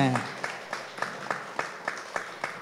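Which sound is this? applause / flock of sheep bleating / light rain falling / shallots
applause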